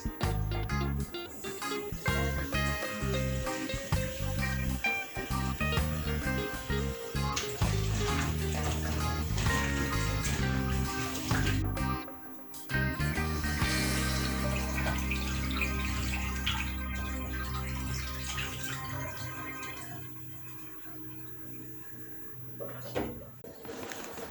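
Tap water runs while beans are being washed in a kitchen for a Jamaican bean rundown, a loud, continuous splashing stream with clattering, briefly stopping midway and tapering off near the end.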